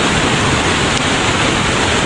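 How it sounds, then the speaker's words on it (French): Small cascades at the Plitvice Lakes in Croatia pour in a dense, unbroken roar of falling water, loud and even throughout with no voices. "c'est vraiment le lac au mini-cascade"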